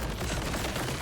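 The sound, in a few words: grenade explosions in video game Borderlands 4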